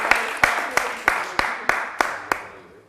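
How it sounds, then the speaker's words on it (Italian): Quiz-show audience applauding a contestant during a Tolmezzo versus Cividale del Friuli match, a close round of clapping with sharp regular accents, fading out over a few seconds. "L'applauso va a Elisabetta però, E alla Proloco di Cividale."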